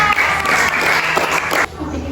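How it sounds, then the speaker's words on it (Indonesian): A short, loud burst of clapping and crowd noise for a first-place student at an Indonesian class ranking, dense and even before dropping off abruptly near the end. "Tepuk tangan untuk Reza."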